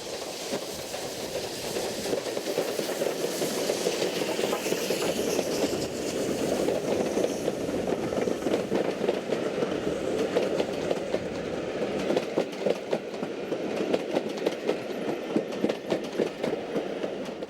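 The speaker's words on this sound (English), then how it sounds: "The first of these two engines is a Class 4 260, one notch down from the very similar 460 Class 5 behind." A BR Standard Class 4 2-6-0 mogul steam locomotive runs with a similar Class 5 behind, giving a steady, continuous rolling rumble with faint rhythmic wheel clatter throughout, close and fairly even in level.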